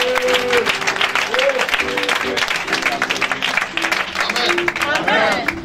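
Church congregation applauding and cheering in acclaim of Jesus, sustained dense clapping with crowd voices mixed in, loud and close for several seconds.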